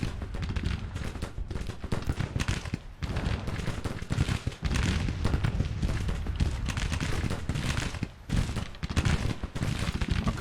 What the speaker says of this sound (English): So these poor buggers are under some cannon fire.